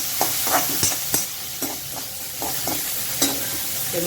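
Diced potatoes for sabudana khichdi fry in oil with a light sizzle, while a utensil stirs and scrapes the pan in several sharp, irregular strokes close up.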